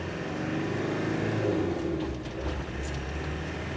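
A 1997 Land Rover Defender 90 pulling away in first gear, its engine a steady low drone that swells slightly as it accelerates, close and continuous with no talking.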